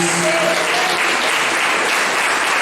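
A church congregation bursts into loud, continuous applause during a service sermon, a dense wash of clapping with a faint voice or tone briefly audible at the start.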